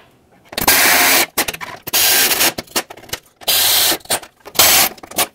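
Power tool driving bolts into a car's lower valence panel, with several bursts of whirring and ratcheting separated by short pauses, close and loud.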